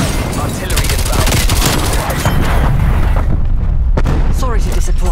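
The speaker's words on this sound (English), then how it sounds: "Artillery inbound." Artillery strike explosions in Call of Duty Black Ops Cold War team deathmatch, with loud continuous booms and rapid gunfire rumbling together, close and dense throughout, and game voice announcements over it.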